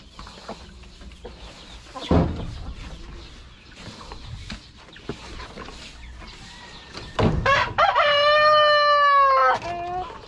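Rhode Island chickens being fed at a farm cluck and scratch softly for several seconds, then a rooster lets out a loud, close crow near the end.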